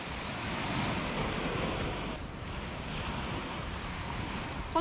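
Ocean waves breaking at a beach, a continuous rushing surf with wind buffeting the microphone, fairly loud and steady with a slight swell near the start and no voices.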